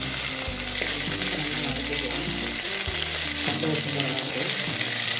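Fennel seeds and ten crushed garlic cloves frying in hot oil in a kadai, a loud continuous sizzle and crackle with occasional stirring scrapes, close up and without talk.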